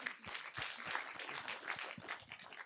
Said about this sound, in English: Round of applause for Pascal.